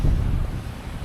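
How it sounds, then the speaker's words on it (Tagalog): Strong gusts buffet the microphone at a seaside campsite in Real, Quezon, a dense low rumble that stays loud and steady for the whole second with only slight dips. "Ang lakas ng hangin dito"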